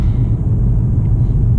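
A 2019 Mercedes-Benz CLS 350d 4MATIC coupé rolls over speed bumps, heard from inside as a steady, loud low rumble of road and cabin noise, with no distinct thumps standing out.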